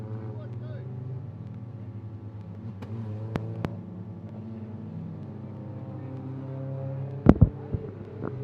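C-grade saloon race cars rumble around Ellesmere speedway, a steady drone of engines at a distance with a couple of sharp knocks and a loud burst near the end.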